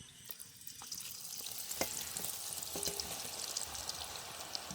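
Murukku dough dropped into well-boiled oil in a village kitchen, crackling and sizzling in a steady, moderately loud wash with a few sharper pops, no talk over it.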